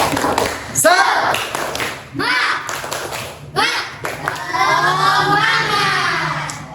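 A school class claps the rhythmic tepuk semangat pattern indoors, bursts of hand claps mixed with children's chanting voices, loud and close throughout.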